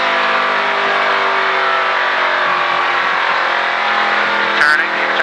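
Stock car engine roars loudly and steadily from inside the cockpit during a Richard Petty Driving Experience session at the Disney speedway, with a brief voice over the drone near the end.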